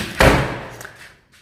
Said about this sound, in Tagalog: Sara natin yung pinto.